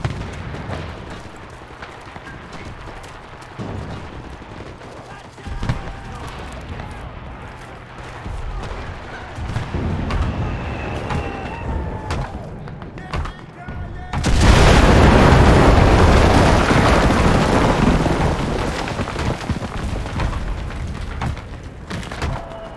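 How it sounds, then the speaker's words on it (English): Artillery shells slam down in a barrage during Enlisted gameplay, deep booms rolling in over a busy battlefield and swelling into a dense, loud roar of blasts toward the end. "Artillery support!"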